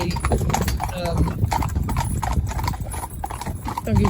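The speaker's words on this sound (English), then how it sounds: "you've got a big powerful horse in the middle" Steady clip-clop of cob horse hooves, close and continuous, with a voice talking over it and a brief whinny near the end.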